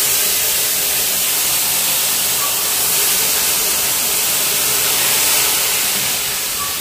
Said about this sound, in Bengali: আমি এখন চিনি শিরাটা অল্প অল্প করে মেশাবো